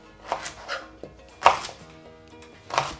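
A knife cuts potatoes into chips on a board, about five distinct chopping thuds spaced irregularly, close and clear with no talk.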